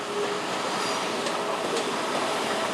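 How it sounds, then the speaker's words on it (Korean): A track inspection car runs along the Honam line rails, giving a steady, continuous rolling rumble with faint rail squeal close by, with no voices and no break in the noise. "궤도 검측차가 선로를 점검하고 있었고"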